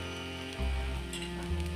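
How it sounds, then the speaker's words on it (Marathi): Dosa batter hitting a hot griddle, a sudden hiss that swells into a steady close sizzle partway through, with a faint tonal hum beneath and no talking. "डोसा तव्यावर टाकलेला आहे"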